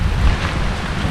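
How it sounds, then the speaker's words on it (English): Wind and rough sea waves crash at a rainy shoreline, a loud, continuous roar with heavy low rumble and microphone buffeting throughout, no voices. "Yes, it's windy, it's rainy,"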